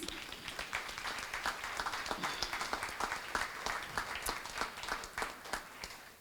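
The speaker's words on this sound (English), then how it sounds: "Please give them a round of applause." An audience at a diversity awards event applauds steadily, individual claps distinct within the moderately loud, sustained clapping that fades slightly toward the end.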